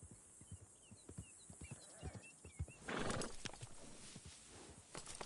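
A horse's hooves clip-clop in an uneven rhythm, then a loud whinny rises and trails off, followed by more hoof steps.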